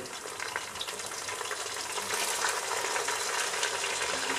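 Meat frying in a pot with golden-browned onions for haleem, a loud, steady, dense sizzle that grows slightly stronger as it goes, with faint stirring scrapes underneath.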